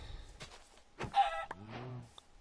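Minecraft chicken clucks come in a few short bursts, fairly close and clear, with brief gaps between calls and no talking.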